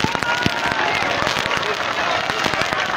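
A large outdoor political crowd in Oruro, Bolivia, applauds Evo Morales with dense, loud, sustained clapping mixed with sharp bangs like firecrackers and a general roar of voices.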